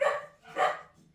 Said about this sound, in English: My dogs go crackers when anybody comes.